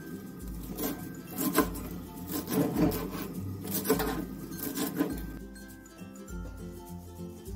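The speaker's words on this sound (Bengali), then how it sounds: "ধনে পাতাটা একদম কুচিয়ে কেটে নেব।" Fresh coriander leaves finely chopped with a knife, a run of close rhythmic thuds and scrapes on a board in quick bursts, loud and alone with no talk.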